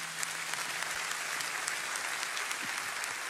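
A church congregation claps steadily throughout, a dense wash of applause from a crowd in a large room with no speech over it.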